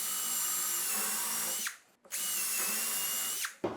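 A power drill bores a recess pilot hole in a pocket door frame. There are two loud, steady whining runs close up, each ending in a short spin-down, with a brief pause between them.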